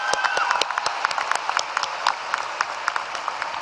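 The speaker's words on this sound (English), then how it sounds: "give our loved ones in the audience a round of applause" Audience at a 2011 Dallas high school graduation ceremony claps steadily, a dense patter of many hands filling the hall with sharp individual claps standing out throughout.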